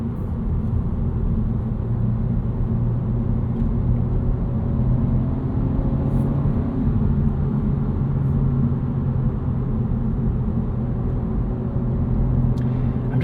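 Engine of a 2025 Honda Civic Si with its 1.5-litre motor heard from inside while driving, a steady low droning hum with road rumble, unchanging throughout and no talking.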